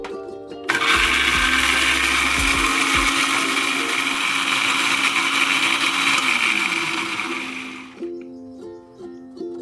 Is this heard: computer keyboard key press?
no